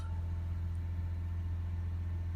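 A Vauxhall Vivaro 1.6 diesel engine idles at steady revs with a DPF fault, a constant low mechanical drone with a strong fundamental hum, close and unbroken, no voices.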